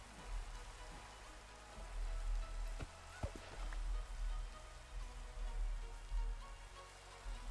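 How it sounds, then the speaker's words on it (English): Rain falling in Minecraft, a steady faint patter of drops on surfaces with low rumbling swells and a couple of brief clicks, no voices. "Oh, look, and the rain's come."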